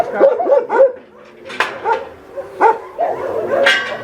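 Several dogs at a dog shelter bark and yip in quick, overlapping bursts, with some higher whimpering yelps mixed in. The sound is close and fairly loud throughout.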